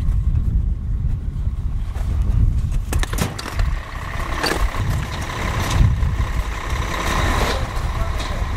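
Snowcat engine rumbling on Elbrus, a continuous loud low drone with clanks and mechanical knocks throughout, close by.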